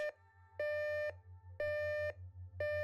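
An electronic alarm clock beeps in a steady repeating pattern, four long tones spaced evenly apart over a low hum.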